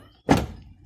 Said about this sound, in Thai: ปิดประตูครับ